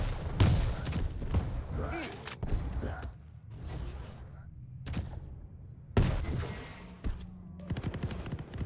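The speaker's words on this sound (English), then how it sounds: "The drop down with the shotgun does decent damage" Shotgun blasts and clanking weapon mechanisms in a Quake Champions LAN finals match, sharp loud shots scattered irregularly with metallic creaks between, under excited commentator talk.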